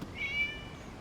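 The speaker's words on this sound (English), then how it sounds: "It was just a cat." A single cat meow in Genshin Impact, a short, high, tonal cry that rises and fades within a second against faint background ambience.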